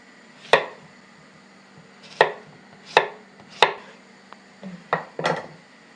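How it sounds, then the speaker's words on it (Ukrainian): A knife slicing a young, unpeeled zucchini into centimetre-thick rounds on a board gives about seven crisp, separate chops at an uneven pace, close and clear against a quiet background. "І нарізаємо такими сантиметровими кружечками."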